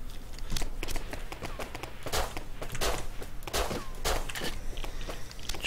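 Rapid bursts of gunfire in the survival video game Rust, overlapping shots crackling continuously with some sharper near bangs among more distant volleys, no talk over it.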